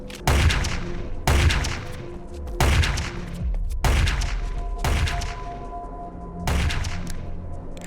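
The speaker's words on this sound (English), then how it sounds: "The sound appears as if it's not coming from the gun itself." Gunfire in the video game Project IGI, with the audio coming from the wrong place: five heavy, booming shots spaced about a second or more apart, each with a long rumbling decay, loud with no voices.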